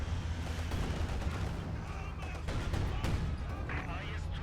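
Gunfire and artillery in a 1v1 Company of Heroes 2 match between StuG and Pak guns, with dense, continuous battle rumble and sharp shot cracks throughout, under a commentator's voice.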